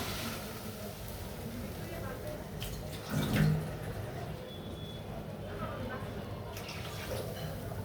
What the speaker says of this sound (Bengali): আমার আলুটা কষানো হয়ে গেছে, আমি এখন পানি দিয়ে দিব।